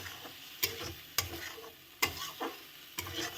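Spice paste being fried and stirred in a pan for a cauliflower dalna, a low sizzle punctuated by four distinct scraping knocks of the spoon at an uneven pace, close up.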